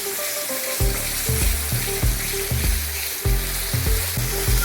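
Masala of onion and spices sautéing in oil for chicken Khandeshi, a loud steady sizzle broken by repeated scraping stirs of a spoon against the pan, with no voices.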